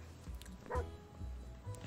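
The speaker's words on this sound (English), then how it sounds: "Yeah, it's the dog." A dog in the survival video game 60 Seconds gives a few quiet yips and whimpering barks, with a brief louder bark in the middle, faint and game-like against a low background.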